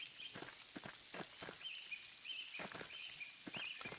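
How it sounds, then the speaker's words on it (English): Rain falling in the video game Pentiment, a soft steady patter of drops running throughout, with faint bird chirps and a few light footstep-like taps mixed in. "You can hear this, the rain."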